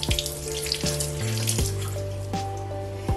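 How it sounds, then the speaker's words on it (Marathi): Tap water runs into a sink while fresh mint leaves are rinsed under it, a steady close splashing stream with some shifting tones as the flow hits the leaves, no voices. "तर त्यामध्ये हे पुदिनाचे पत्ते धुवून घेते."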